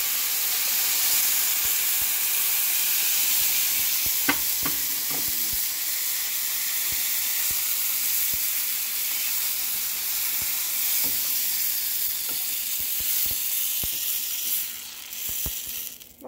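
Blended tomato, onion and garlic puree sizzling in a hot pot for Mexican noodle soup, a loud, continuous frying hiss with occasional stirring clicks, fading slightly at the end, with no talk.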